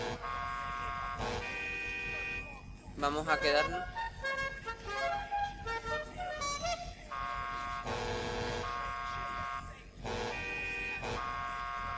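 Car horn in GTA 5 during car customization, sounding as sustained buzzy tones at the start and again later, with someone talking between the horn blasts.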